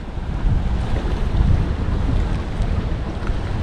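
Wind roars steadily over a small fishing boat at sea, a dense, loud rush with faint wave and hull sounds beneath and no speech.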